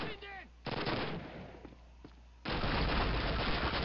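Video game gunfire in Call of Duty: a burst of automatic shots, a quieter stretch with a few single cracks, then a loud sustained volley to the end.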